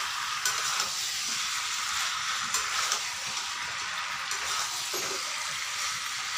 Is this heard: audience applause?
no